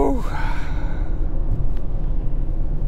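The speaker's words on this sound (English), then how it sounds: "now I'm even yawning" A single drawn-out yawn from a man sitting in a car, rising at the start and then trailing off into a breathy exhale over a low engine rumble.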